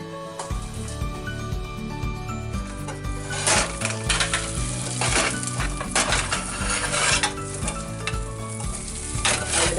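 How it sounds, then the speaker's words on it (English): Chicken cordon bleu stuffed with spinach sautéing loudly in a pan, a steady close sizzle with scraping and clinking of utensils against the pan throughout, music playing underneath. "So I'll be sauteing this in my pan."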